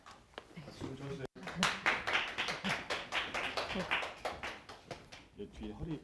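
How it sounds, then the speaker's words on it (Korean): Audience applauding at a Korean labor-attorney exam lecture, a steady patter of many hands clapping indoors for several seconds, with a voice heard faintly under it. "박수 쳐주세요."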